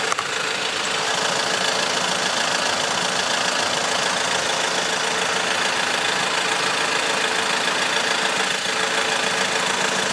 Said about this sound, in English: the oil level is checked with the engine running